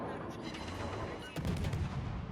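Naval guns boom in a ship battle video game as armor-piercing shells fire, a dense rumbling salvo of heavy blasts that swells into a louder second volley partway through.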